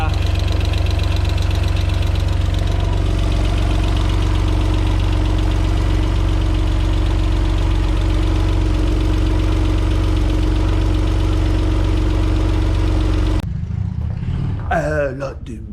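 An Alfa Romeo 147 GTA engine idles loudly with a steady mechanical drone and fast, light valve lifter ticking, then cuts off abruptly near the end, leaving brief quieter sounds.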